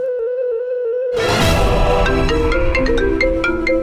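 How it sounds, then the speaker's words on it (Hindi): A phone ringtone plays a bright electronic melody, loud and close, with repeating tones continuing to the end. "फोन आ रहा है"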